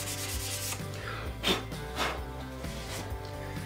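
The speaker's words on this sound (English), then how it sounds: "Little hand sanding gets rid of those pencil marks and cleans up the screw holes" Sandpaper rubbing back and forth by hand across wood to remove pencil marks, a steady scratchy rasp with a few louder strokes, close up and without talk.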